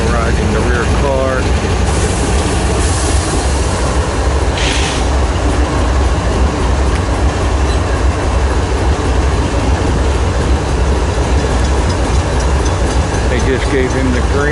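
A freight train's rear car rumbles along the track near Woodbourne Station, a loud, steady roar of wheels with faint rhythmic clatter over rail joints and occasional squeaks, heavy and continuous from start to finish.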